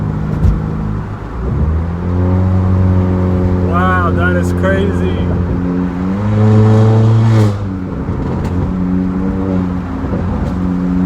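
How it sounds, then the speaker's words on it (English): A 2019–2020 Honda Accord Sport 1.5T turbo with intercooler resonator delete accelerates hard in sport mode, the engine note climbing loud and close in two rising pulls, while a man exclaims over it. "I hear that turbo, guys."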